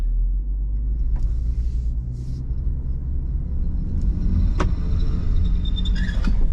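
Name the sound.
SUV accelerating on rollers in low traction launch test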